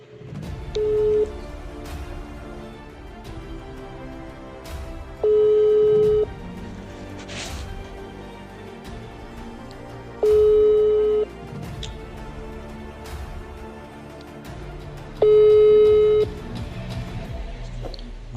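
An unanswered outgoing phone call gives a repeating ringback tone: four evenly spaced beeps, each about a second long with roughly four seconds of quiet between them, clear and close with no talking.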